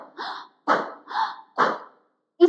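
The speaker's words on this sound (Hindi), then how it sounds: "मुंह से सांस भरेंगे ऐसे करके पूरा सांस जितना भी आप ले सकते हैं, मतलब तेज आवाज करके" Forceful, loud breaths drawn in through the mouth like coughing come as four rhythmic, harsh bursts with short silences between, followed by a brief final burst.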